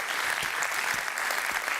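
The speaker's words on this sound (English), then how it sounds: "let's give it a round of applause" Audience applause at the opening ceremony of Climate Week NYC, a steady, dense clapping from a large crowd that fills the whole stretch at a moderately loud level with no talk over it.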